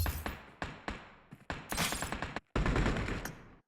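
Pistol shots in the BGMI mobile battle royale game, a quick run of sharp, close, loud cracks spaced irregularly, with a denser volley near the end.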